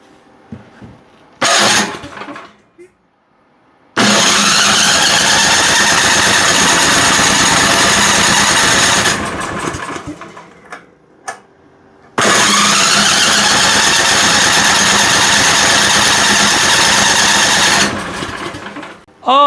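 A cheap gas snowblower engine with choke on and throttle fully open is pull-started, catches and runs loudly at a steady roar, cuts out briefly with faint handling noises, then restarts and runs again.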